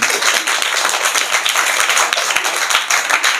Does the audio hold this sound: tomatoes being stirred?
no